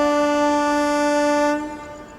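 A high-speed train at Ghatkesar station sounds a long, loud, steady horn blast that cuts off abruptly, leaving the lower rumble of the passing train.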